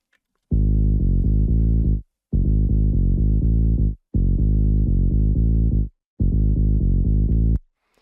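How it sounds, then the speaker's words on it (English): A synthesized saw-wave bass line plays four sustained, buzzy phrases with short gaps between them, loud and upfront with no other sounds. "The bass line I just played sounds like this."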